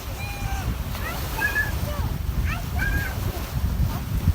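Ocean waves wash steadily onto a beach, producing a continuous close rushing roar, with a few bird chirps above it.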